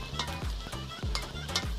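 Potatoes, beans, peas and carrots fry in a pan for fried rice, a continuous sizzle broken by about four rhythmic scraping strokes of a spoon stirring through the vegetables, close and fairly loud.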